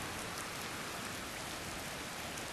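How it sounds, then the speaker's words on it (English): Steady rain falls outdoors, a soft even hiss of drops that stays constant and fairly faint throughout, with no talking. "Just showing you how rainy it is."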